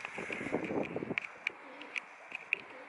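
White pigeons coo softly in a low murmur close by, followed by a few sharp higher chirps spaced apart, faint overall.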